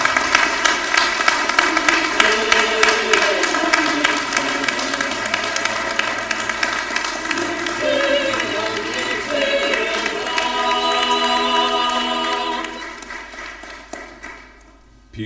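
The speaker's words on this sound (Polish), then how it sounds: "Proszę o wielkie brawa." An audience at a university senate ceremony gives long, sustained applause that stays loud and dense, then thins out and fades near the end.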